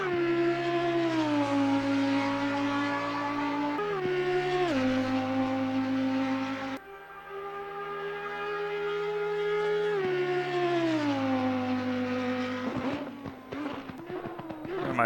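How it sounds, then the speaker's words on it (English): Audi EVO GT3 race car engine in Assetto Corsa Competizione, a loud high-revving whine climbing through the gears with sharp drops at each upshift, one brief dip midway, then rapid downshift blips near the end, no talk. "One of my favorite sounding cars, the Audi."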